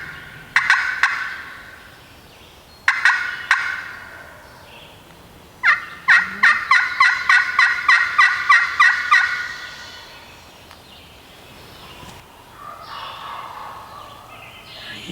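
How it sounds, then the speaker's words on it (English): Wild turkey gobblers gobble in Pennsylvania hunting woods, loud and close: two single rattling gobbles, then a long rapid string of about a dozen gobble bursts, with another faint call later and no talk. "Another gobbler. He's right here."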